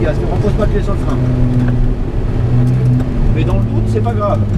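A car engine on a track pulls steadily with a sustained low drone that shifts pitch as it accelerates, close and loud, while a voice talks over it.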